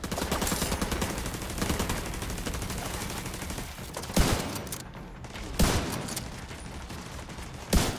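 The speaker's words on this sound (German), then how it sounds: "Das heißt, wir stellen mal da unser Geschütz her" A deployed turret fires in the shooter game The Division 2, loud bursts of rapid gunfire rattling continuously, punctuated by a few heavier impacts.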